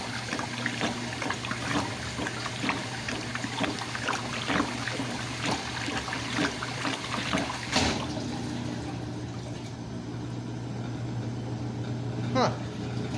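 Hose water splashes and overflows the tub of a 1957 Speed Queen solid-tub washer, a steady rushing and trickling wash under continuous talk, with a couple of brief clanks.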